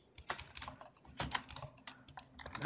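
Rapid clattering keystrokes on a computer keyboard during a Minecraft SkyBlock session, close and irregular with some louder taps and no voices.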